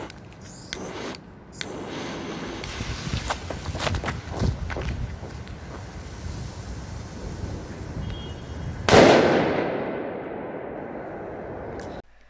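A P20 firecracker goes off on New Year's Eve with a single loud, sharp blast around nine seconds in, followed by a fading crackle, against outdoor background noise and distant pops.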